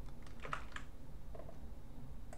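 Quick, light clicks of fingers typing on a computer keyboard, a short irregular burst close by, with no talking.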